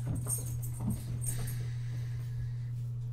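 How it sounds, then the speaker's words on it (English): A border collie named Pepsi makes brief soft whimpering and panting noises at close range, faint against a steady electrical hum. "Is that a dog? Yes, Pepsi is my border collie."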